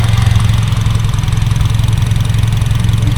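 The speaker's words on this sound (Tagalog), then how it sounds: "So pinong-pino na ang kanyang andar" A turbocharged Honda City engine idles steadily and loudly up close, a smooth, even low rumble with no other sounds over it.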